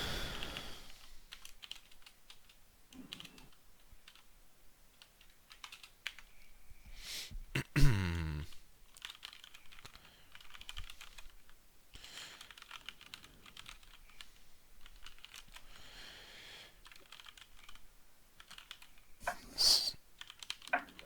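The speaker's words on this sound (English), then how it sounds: "So I'll type it out for you." Steady keyboard typing during a programming lesson: soft, rapid key clicks run continuously for about twenty seconds, with one louder knock near the middle and no talking.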